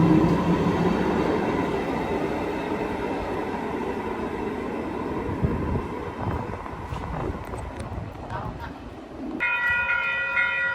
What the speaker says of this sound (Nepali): अनि यता ट्रेन आउँदैछ